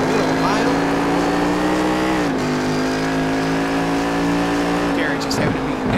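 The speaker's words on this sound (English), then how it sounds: "You hear those rear wheels spin just a little bit as he got off the exit there." A race car powers off a corner exit with its engine droning in a strong steady harmonic whine, the pitch dipping briefly as the rear wheels spin a little, close and loud, with a commentator talking over it.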